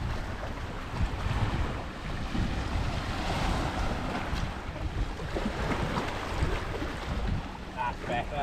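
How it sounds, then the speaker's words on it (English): Wind blows across a rocky Bristol Channel shore during sea fishing, a constant loud roar and buffeting against the microphone mixed with surf, steady throughout. "Might be quite windy, guys."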